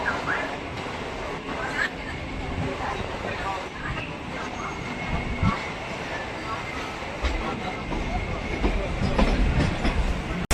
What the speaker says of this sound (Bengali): এই মুহূর্তে আমাদের ট্রেন প্রবেশ করছে তার তৃতীয় হল টিটাগড় স্টেশনে।